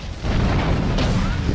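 Dense, continuous rumbling blasts and booms from Grand Theft Auto 3 riot mode, loud and close, with a brighter burst near the middle over a steady roar.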